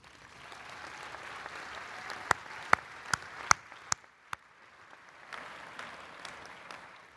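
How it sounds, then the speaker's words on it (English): Audience applause for faculty at a medical school commencement, a faint, distant wash of clapping with several sharp individual claps in the middle seconds before it thins out. "They deserve a round of applause."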